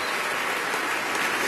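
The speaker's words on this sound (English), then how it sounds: "That deserves a huge round of applause." Steady crowd applause fills an awards ceremony hall, a dense continuous clapping from a large audience with no pauses.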